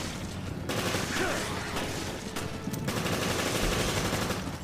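Rapid gunfire from the video game Resident Evil Revelations, a dense, loud run of repeated shots with sharp bursts and a lingering rumble, filling the whole stretch with little pause.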